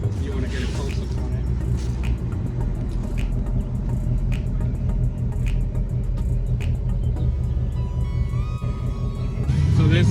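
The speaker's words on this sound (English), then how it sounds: "this is what the car sounds like with the active exhaust. Valve's completely open." A 2019 Mustang GT with a Borla Atak active exhaust, valve fully open, idles with a deep, loud, continuous rumble that pulses slightly, and faint voices are briefly heard near the end.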